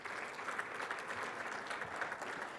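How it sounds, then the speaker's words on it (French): Steady audience applause at a tourism event, dense continuous clapping throughout with no voices on top. "Donc on peut les applaudir, s'il vous plaît."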